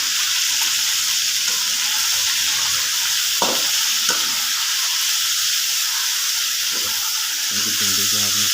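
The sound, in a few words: chicken frying in a pan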